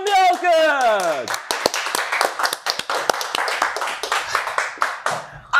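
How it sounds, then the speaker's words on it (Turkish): Audience clapping on a Turkish rap talk show, starting after a shouted voice and continuing as a loose, close round of hand claps. "tekrardan ikinci kez kocaman bir alkış"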